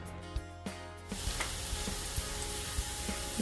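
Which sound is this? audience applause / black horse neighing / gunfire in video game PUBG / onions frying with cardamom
onions frying with cardamom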